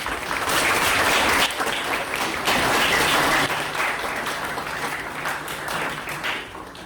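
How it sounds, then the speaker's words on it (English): Sustained applause from a ceremony audience at a Future Leaders induction and closing event, dense clapping holding steady and loud for about seven seconds before easing slightly toward the end. "you should give yourselves a round of applause for that"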